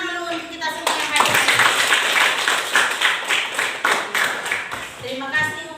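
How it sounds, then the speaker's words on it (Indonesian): A class of children in an Indonesian school classroom clapping their hands together in loose rhythmic bursts, close and lively, with a voice speaking before and after the clapping. "Tepuk tangan dulu untuk kita semua yang hadir."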